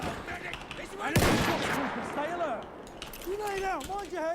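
Gunfire in the video game Battlefield 1 crackles through a busy battle mix, a loud burst of shots near the middle followed by ongoing scattered firing and in-game voices.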